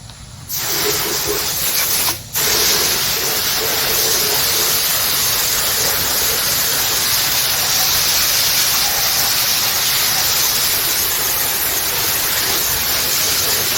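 Water spray washes engine cylinder heads, a loud continuous hiss that starts after a brief quiet moment, cuts out for an instant, then runs steadily to the end.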